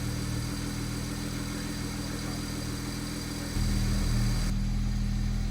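A BMW 335i with the N54 engine runs with a steady, noisy idle drone up close, shifting to a slightly louder, fuller running note partway through.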